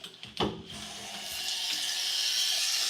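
Water from a tap rinses a small flexible hair brush over a hair catcher in a sink, a brief knock followed by a steady, building hiss of running water.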